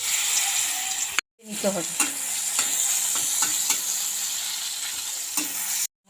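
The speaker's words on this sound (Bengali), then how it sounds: "এরপর আমি ছতুগুলো ভেজে নেব" Salt-and-turmeric-coated chhatu mushrooms frying in a hot wok, giving a loud, continuous close sizzle with stirring scrapes, a brief cut near the start and someone speaking softly over it.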